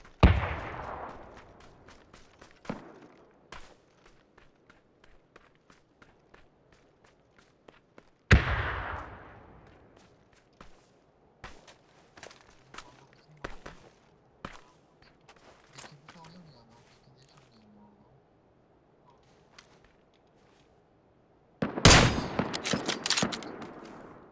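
Gunfire in PUBG on the Miramar desert map: sharp single shots and rapid bursts crack repeatedly, some close and loud, others distant and faint, with a heavy close burst near the end. Players talk over it at times.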